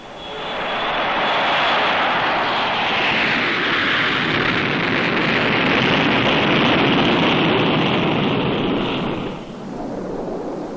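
North American B-70 bomber at Mach 1.6 with its jet engines at full throttle, a loud, continuous roar that swells and holds for about nine seconds before dropping away, heard alone.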